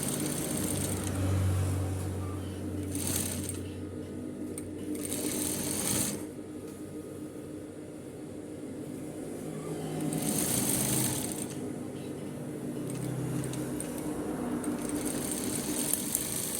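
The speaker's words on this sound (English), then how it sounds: "then we pin again and continue sewing" A sewing machine stitches a suit coat collar in a steady whirring hum, running in long bursts with brief pauses and changes in speed, close and fairly loud.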